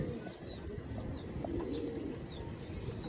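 Soft pigeon cooing, low and muffled, over a steady rumbling background noise.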